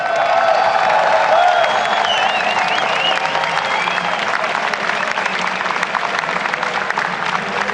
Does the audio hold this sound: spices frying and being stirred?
no